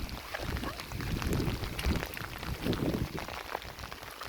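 Rain falls steadily in a rural Lao rice field area. The hiss is dense and unbroken, close by and moderately loud, with no speech.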